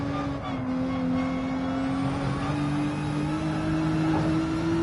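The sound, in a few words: race car drifting in Gran Turismo 7 video game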